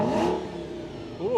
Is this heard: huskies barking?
no